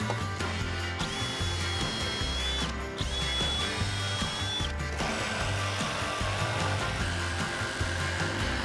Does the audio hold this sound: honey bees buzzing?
no